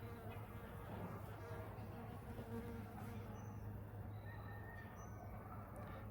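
A low, steady buzzing of bees hums close by throughout, with faint chirps of birds in the background.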